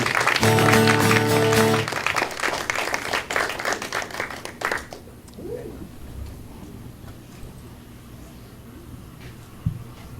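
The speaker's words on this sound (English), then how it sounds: "Please, another round of applause" Audience applause and clapping at a songwriters showcase, loud and dense at first, then thinning into scattered claps and fading room noise by the second half.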